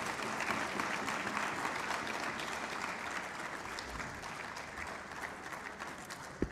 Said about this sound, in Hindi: ज़रा तालियां बजा के उनका इस्तकबाल होना चाहिए।